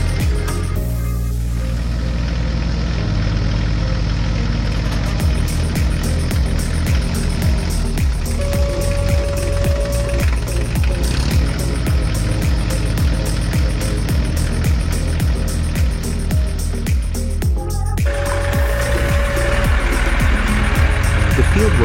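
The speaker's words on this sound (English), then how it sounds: "The green tractor moves steadily along the rows." A green tractor's heavy engine drones steadily in a field beside a baler, a low continuous rumble with a faint beeping tone, heard under a speaking voice.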